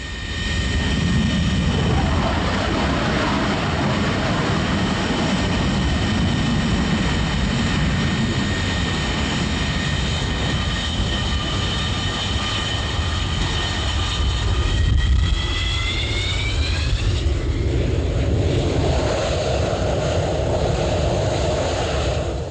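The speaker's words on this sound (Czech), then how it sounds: "Motory pracují v režimu plné forsáže." Czechoslovak MiG-21 and MiG-23BN jets running their engines at full afterburner, a loud sustained roar with rising whining tones that shift and fade as the aircraft passes, close and dominant throughout.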